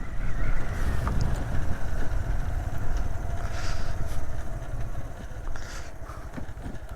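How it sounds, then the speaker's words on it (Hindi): A motorbike rolls slowly along a mountain road to Chitral over Lowari Top, its steady low engine rumble mixed with gusts of wind noise throughout, with no talk. "मैं बाइक इसलिए जो है ना स्लो डाउन चला रहा हूँ"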